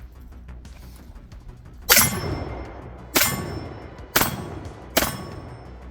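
A Stoeger M3000 semi-automatic combat shotgun fires slugs at a target outdoors: four loud, sharp blasts spaced roughly a second apart, each with a short ringing tail, over a quiet background.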